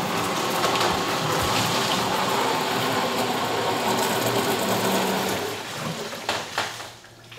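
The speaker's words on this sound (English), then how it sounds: "I can turn the pump on" An equipment pump runs dry with no water in its tank, giving a rattling mechanical whir that holds steady for several seconds and then sputters and winds down.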